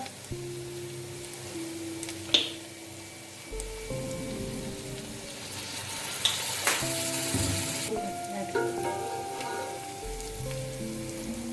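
Vegetables frying in a pan for fried rice as soy sauce goes in, a continuous close sizzle that swells sharply when the liquid hits the hot pan, with clinks of a spatula and light background music.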